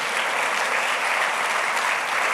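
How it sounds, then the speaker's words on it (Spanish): A church congregation applauding, a steady, full and even burst of many hands clapping throughout. "Otro aplauso para el Señor, bendito sea el Señor."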